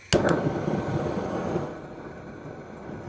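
A blow torch lit to start charcoal gives a sharp click of ignition followed by a loud, rushing roar of gas flame that eases back after a moment, heard up close.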